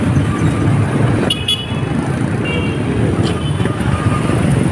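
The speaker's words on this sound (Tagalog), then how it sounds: "Ayan, paalis na yung uh, dump truck." Dump truck pulling away along a busy Manila street, its engine rumble blending into steady traffic noise with a few short horn toots, continuous and moderately loud throughout.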